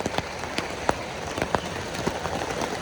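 Rain falls steadily, a dense soft patter with scattered sharper drops and taps landing on nearby surfaces, continuous throughout with no voices.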